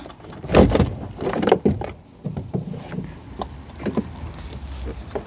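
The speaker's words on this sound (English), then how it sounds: "Now we can simply lift the door card up and partially away from the door itself." Plastic door card being lifted and pried away from the front door of a Vauxhall Corsa D, with close scraping, creaking and soft knocks in an irregular sequence and no talking.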